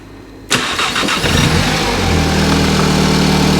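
An Audi S1 with a repaired starter circuit cranks and fires with a sudden loud start, then settles into a steady, close engine idle with a slight rev.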